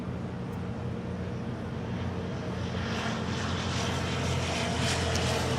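A United Airlines Boeing 787-9 Dreamliner bound for London takes off at Los Angeles International Airport, a distant steady jet roar that slowly builds in loudness.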